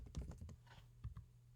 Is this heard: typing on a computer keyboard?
yes